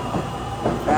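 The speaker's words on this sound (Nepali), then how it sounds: "ट्रेन चल्यो है ट्रेन चल्यो" A train near Dazaifu, Fukuoka rumbles along steadily, filling the space with a low, continuous rolling noise and a faint metallic whine creeping in near the end.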